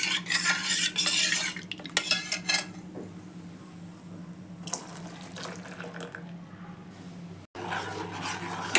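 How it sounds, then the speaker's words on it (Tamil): A spoon scrapes and clinks steadily in a pot, stirring a fruit custard mixture close by, with a watery sloshing texture throughout and no talking. "இப்போ இதை நல்லா கலக்கிட்டு கொதிக்கிற பாலில் நம்ம சேர்க்குறோம்."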